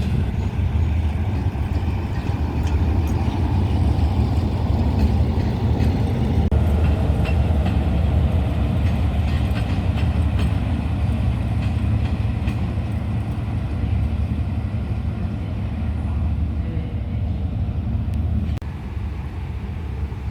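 A Hitachi 4518 diesel locomotive hauling train 211 rolls into platform 7 at Bangkok station, its engine rumbling loud and close in a continuous, heavy drone with faint rattling, fading slightly toward the end.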